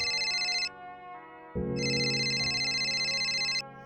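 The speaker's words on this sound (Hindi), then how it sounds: "तभी हान का मोबाइल बज उठता है।" Mobile phone ringtone plays loud and close: a bright electronic melody sounds, pauses briefly, then returns fuller for about two more seconds before cutting off.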